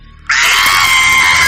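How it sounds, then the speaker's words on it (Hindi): A woman's sudden shrill scream bursts in after a brief quiet moment and holds loud and piercing, used as a horror audio-story sound effect. "अंदर के कमरे से आती हुई उसकी बीवी प्रीति की चीख"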